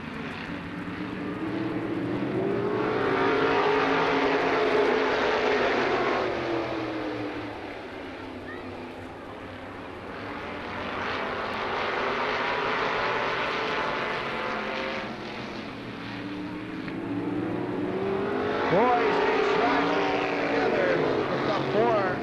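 Race cars lapping a 40-lap feature at Lorain County Speedway in Ohio, engines swelling loudly as the pack passes, fading, then roaring by again in repeated waves.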